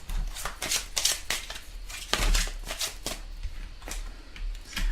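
Tarot cards shuffled by hand in repeated bursts of crisp riffling and flicking, close and fairly loud, with no talking.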